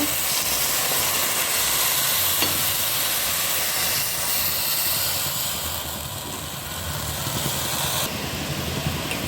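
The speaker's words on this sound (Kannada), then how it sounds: "ಮೊದಲಿಗೆ ಬೆಲ್ಲದ ಪುಡಿ ಹಾಕೋಣ ಅದು ಕರ್ಗೋದಕ್ಕೆ ಒಂದು ಸ್ವಲ್ಪ ನೀರನ್ನು ಹಾಕೋಣ" Powdered jaggery melting with a little water in a pan gives a continuous close simmering hiss and sizzle, easing slightly in loudness partway through, with occasional faint stirring scrapes.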